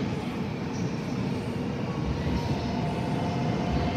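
A JR Yamanote Line train passes through Tokyo Station, a loud, steady rumble of rolling wheels and rail noise that carries on with no talking.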